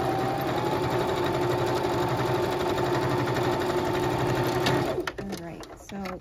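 A sewing machine stitches around a quilt square in a fast steady whir, close and loud, then stops near the end, leaving a few handling clicks and rustles.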